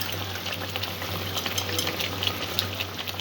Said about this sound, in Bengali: পেঁয়াজের কাঁচা গন্ধটা চলে যাওয়া পর্যন্ত আমি পেঁয়াজ আদা রসুনের পেস্টটা কষে নেব